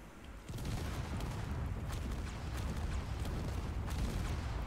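Rocket turret in the space game Space Engineers firing a steady barrage, a dense, continuous roar of launches and blasts that swells after a brief quieter start and holds loud to the end.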